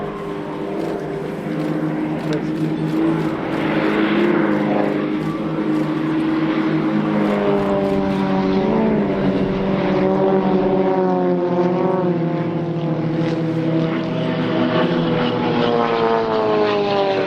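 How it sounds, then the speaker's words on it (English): Extra 330LX propeller aerobatic aircraft flying a display in a four-ship formation at an air show, its engine drone loud and continuous with a rising and falling pitch as it maneuvers overhead. "Easy to see why this aircraft has been the mount of so many great individual aerobatic pilots"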